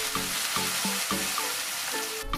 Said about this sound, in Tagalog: Igisa na rin natin ang hiniwang bawang ng ilang segundo or hanggang mabango na ito